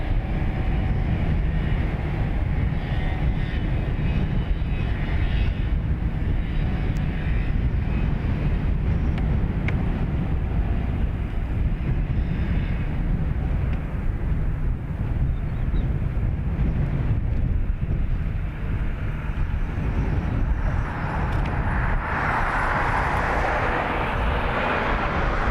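A Blue Islands ATR turboprop at Dublin Airport gives off a continuous loud engine roar with heavy wind rumble, steady for the whole stretch, shifting in tone toward the end as it moves.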